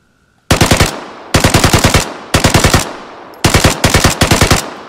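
Tommy gun fired in the video game Vigor: four loud, close bursts of rapid automatic fire, each a quick string of sharp cracks separated by brief pauses, with no talking.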